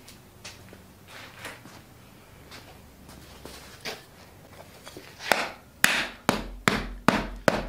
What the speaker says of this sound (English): We'll hammer it out, and then I'll run it through the wheel